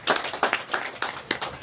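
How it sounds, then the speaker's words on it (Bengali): Scattered hand clapping from an audience at a community discussion meeting of a home shop and development society, a few bursts of claps rising and fading over a short moment, fairly close. "ওনার জন্য একটা করতালি আশা করছি।"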